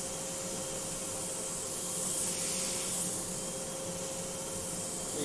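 A power sander working wood while stepping through sandpaper grits gives a continuous close hissing, rubbing whir that swells briefly in the middle, then settles back to an even drone.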